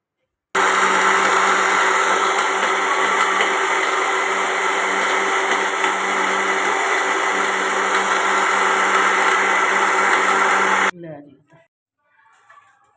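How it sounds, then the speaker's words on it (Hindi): A kitchen mixer-grinder blends pumpkin, dates, bananas and milk into a shake, giving a loud, steady whirring drone for about ten seconds before stopping abruptly and spinning down to silence. "अब मैं ये मिक्सी चलाने लगी हूँ।"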